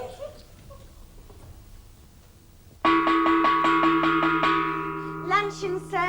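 A luncheon gong struck repeatedly in a rolling series, loud ringing metallic tones with sustained resonance, following a quiet stretch, with brief voices near the end.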